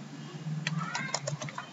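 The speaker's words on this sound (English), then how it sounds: "typing the first three letters" A computer keyboard is typed on in a short burst of quick, irregular clicks over a low background hum.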